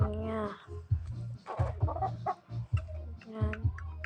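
A backyard chicken clucking in repeated low bursts, close by and fairly loud, with other birds faintly in the background.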